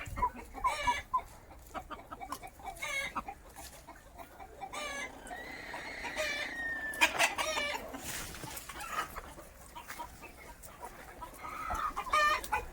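Country hens from a parent-stock flock cluck and squawk as they get up and move about, a busy layer of overlapping bird calls at moderate distance with scattered louder squawks.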